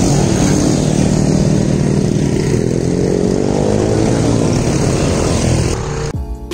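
Motorcycles climbing a ghat section road near a tea estate in the Cameron Highlands, a loud, steady engine drone that holds close throughout and drops away abruptly at the very end.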